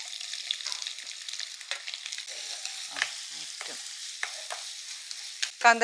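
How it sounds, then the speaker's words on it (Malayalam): Mustard seeds, coconut pieces and shallots fry in hot oil with a steady close sizzle, broken by occasional stirring scrapes and a brief clatter near the end. "ഇനി നമ്മൾ അതിലേക്ക് തേങ്ങാക്കൊത്ത് ഇട്ട് കൊടുക്കുക ചെറിയുള്ളി ഇട്ട് കൊടുക്കുക"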